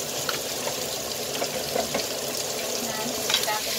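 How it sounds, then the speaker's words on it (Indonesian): Broccoli, potato and fish balls stir-fried in a pan, crackling and sizzling steadily with scattered spatula scrapes and clinks, close and fairly loud throughout. "Nah kita tumis dulu"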